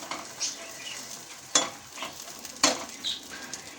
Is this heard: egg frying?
yes